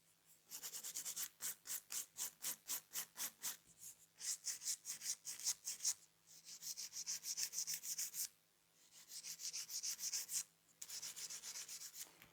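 A sculpted acrylic nail is filed into a ballerina shape: rhythmic rasping strokes, close and crisp, come in quick repeated bursts with brief pauses between sets.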